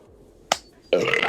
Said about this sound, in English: I have a burp